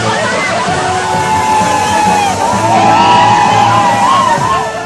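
Villagers in Tanzania cheering and whooping as a newly drilled well strikes water 53 metres down, a dense crowd of excited voices and rising shouts, loud and continuous throughout.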